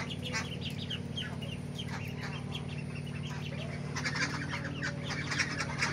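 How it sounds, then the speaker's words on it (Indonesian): A flock of small ducklings of an egg-laying breed peeps and chirps constantly, a busy overlapping chatter heard up close with a steady background hum and no talk. "Ini bebek ya, saya mata pelihara."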